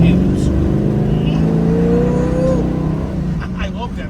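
A 1972 Plymouth Barracuda accelerates on the road, its engine a steady low drone heard from inside the car with a rising whine, while someone talks over it.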